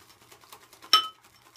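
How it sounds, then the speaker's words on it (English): A single sharp ceramic clink as a shaving brush strikes the lather bowl, close and bright, ringing briefly over faint soft scraping. "Sorry about the clinking."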